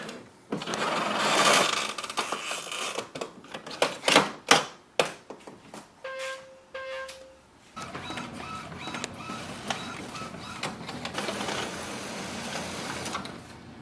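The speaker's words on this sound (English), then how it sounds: "So it's going to print a sheet." An Epson WF-3820 inkjet printer printing a nozzle check sheet, with a burst of whirring feed noise, a series of sharp mechanical clicks and a brief tone, then steady close back-and-forth print-head passes.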